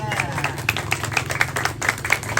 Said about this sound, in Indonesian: Tepuk tangan dulu yang keras dapat dia